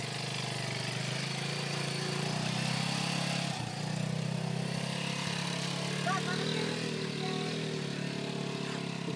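A Grizzly 125 quad engine drones steadily as it rides laps, a mid-pitched hum at moderate distance, with people talking over it.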